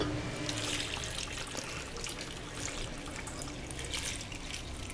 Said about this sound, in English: I'm gonna add that cup of water in.